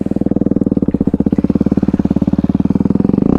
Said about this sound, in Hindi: अपने बाइक को स्टार्ट कर दिया है